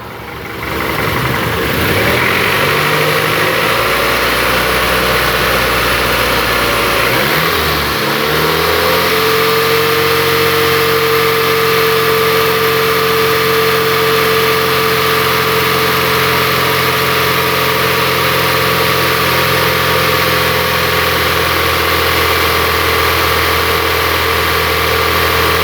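A Honda Accord suffering a no-power fault, with its TPS and MAP connectors swapped, idles loudly up close, dips briefly, then revs up and holds a raised, steady drone with a whining tone over it.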